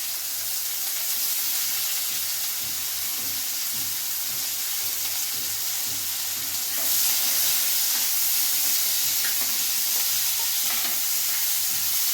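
Coarsely chopped onions fry and hiss in hot oil with cinnamon, cloves and mace for chicken kosha, a steady bright sizzle that grows louder partway through, with faint scraping of stirring and no talk.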